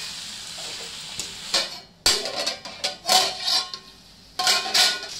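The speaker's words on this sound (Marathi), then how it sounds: "हे काय मिक्स करते ना आता 2 मिनटं." Hirva Matha bhaji, green amaranth leaves cooking with grated coconut in a pan, stirred in irregular bursts of scraping and soft sizzling, with short pauses between strokes.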